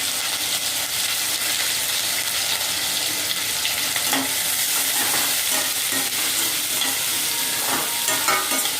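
Onions, green chillies and curry leaves fry in hot oil in a pan, a steady close sizzle running throughout with occasional stirring scrapes and crackles.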